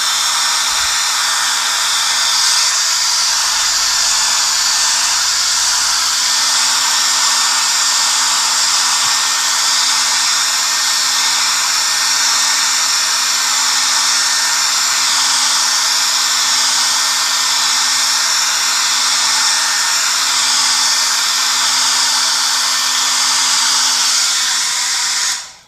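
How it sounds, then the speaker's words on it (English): A hair dryer blows steadily on acrylic paint during a painting session, a loud, continuous whir with a constant motor hum that runs unbroken for about 25 seconds before cutting off at the end. "so I'm gonna blow dry them"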